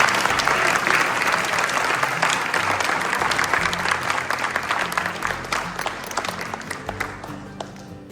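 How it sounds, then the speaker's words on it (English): A banquet crowd at a high school football awards night gives the young players a loud, sustained round of applause that stays dense throughout and tapers slightly toward the end. "You guys could all give these young men a round of applause."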